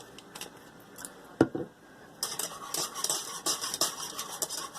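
A spoon stirring vanilla into a bread pudding mixture in a bowl, clinking and scraping in quick irregular bursts at close range after a brief quiet start, with no voices.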